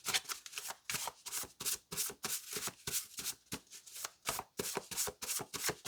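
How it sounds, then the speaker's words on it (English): Tarot cards are shuffled rapidly, a dense series of crisp riffling bursts repeating in a quick steady rhythm, close and fairly loud. "Give it a few more shuffles"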